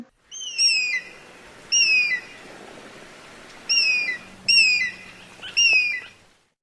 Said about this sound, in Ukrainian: Орел.